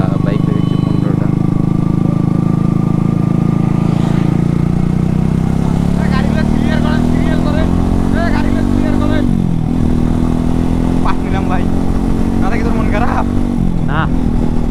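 A group of about fifteen motorcycles rides together on a trip to Hasaigari beel in Naogaon, a loud, continuous engine drone with rising pitch and wind rush, while people talk over it.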